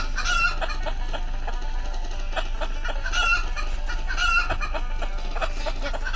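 Chickens cluck repeatedly in a video game, a busy layer of close clucks and squawks with a rooster-like crow, steady throughout with no clear talk.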